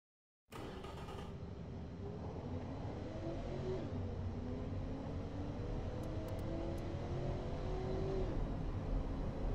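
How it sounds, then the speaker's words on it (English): A steady engine drone from a 1986 Edison Constellation in the game Automation runs throughout with rising and falling pitch sweeps like revving, fairly faint and alone. "I'd like to listen to the engine here"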